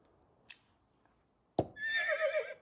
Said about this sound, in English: The horse likes to eat hay and can run very fast.